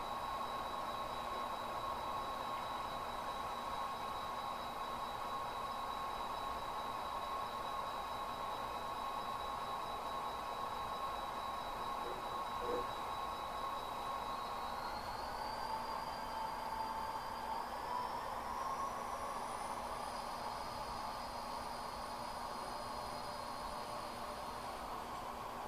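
A model train crosses a control point on the Holcim Cement layout, a faint, steady mechanical hum with thin whining tones that shift in pitch partway through and run on without a break.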